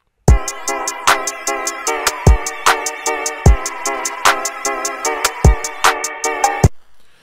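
A bright organ lead synthesized on Tone2 ElectraX plays a rhythmic chordal pattern of repeated stabs. It is loud and upfront alongside punchy low kick hits and lasts about six seconds.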